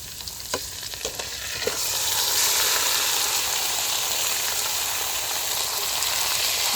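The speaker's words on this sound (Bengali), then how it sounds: "সব মশলা খুব ভালো করে কষিয়ে নিয়েছি" Spice paste cooks in a pan, then marinated meat goes in and a loud, steady sizzle swells and holds, preceded by a few sharp clinks of a spoon.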